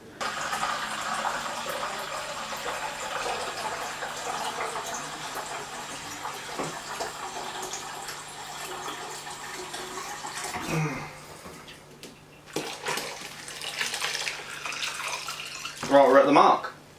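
Water running steadily into a container to top up a batch of strawberry cider, a continuous hissing pour that falters near the end, with a brief clatter and splash.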